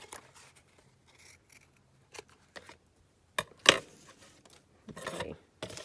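Scissors snip paper cutouts for a collage of clustered men, a few sharp close cuts spaced apart, the last ones crisper and louder, with quiet rustling between.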